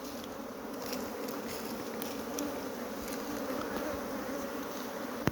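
Honey bees on a comb during a hive inspection in Guyana, with smoke in use, make a dense, steady buzzing hum throughout. It is close and continuous, with no talking.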